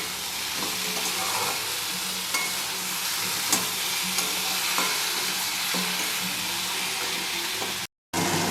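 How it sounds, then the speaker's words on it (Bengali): Moringa drumsticks stir-fry in a hot pan with a dense, continuous sizzle and occasional scraping stirs, heard up close; the sound cuts out briefly near the end. "এবার আমি দিয়ে দেব সমস্ত সজনে ডাঁটাগুলো, দিয়ে এর সাথে কষাতে থাকবো, এর সাথে ভাজতে থাকবো।"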